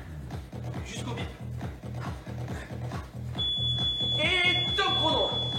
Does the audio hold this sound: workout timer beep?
yes